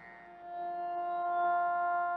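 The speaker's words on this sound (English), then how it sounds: "Would you believe that that sound is the electricity that the fish are making?" Electric fish discharges picked up by a simple amplifier placed in laboratory water, heard as a steady electronic hum with strong evenly spaced harmonics, swelling in loudness after a quiet start and holding alone until an abrupt end.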